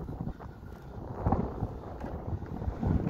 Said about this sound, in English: As you can see by the trees, it's windy. You can probably hear it.